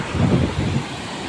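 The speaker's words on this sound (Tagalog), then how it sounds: "nagngangalit pa rin ang karagatan natin" Rough sea surf breaking on a clean beach where boats are hung up out of the water, a loud continuous low roar of waves mixed with wind buffeting the microphone, no voices.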